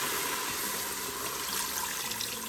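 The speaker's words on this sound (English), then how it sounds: "I've got 32 ounces of beef broth here that I'm gonna put in the pot." Beef broth, 32 ounces, poured into a cooking pot for a meatball dish, giving a steady, continuous liquid rush and splash that runs evenly throughout at moderate level with no talking.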